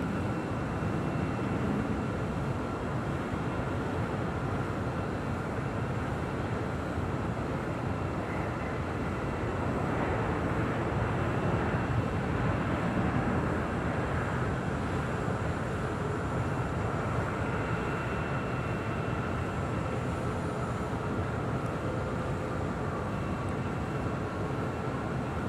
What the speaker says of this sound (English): now rolling down 25 right. That is United Airlines flight 923 heading to London on a 787-9 Dreamliner